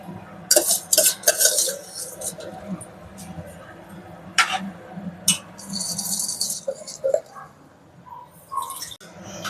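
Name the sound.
basmati rice being added into the pot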